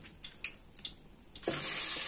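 Pork leg for crispy pata lowered into hot cooking oil over a sawdust burner, bursting into a loud, steady hiss and sizzle after some faint clatter and small clicks.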